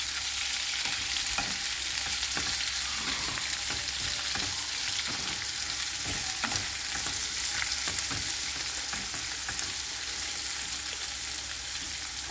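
Three medium onions, thinly sliced, fry in a pan for a Kerala egg roast, giving a steady close sizzle with faint crackles and the occasional stir, and no voices.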